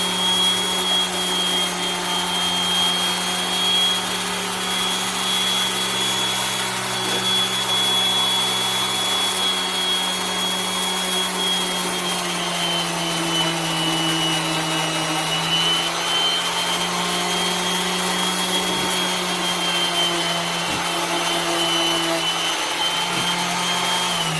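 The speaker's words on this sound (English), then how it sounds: "I'm using 150 grit. And I'll sand it." A wooden cannoli mold is sanded with 150-grit sandpaper under a constant loud machine whine, with continuous abrasive rubbing and faint scratchy texture throughout.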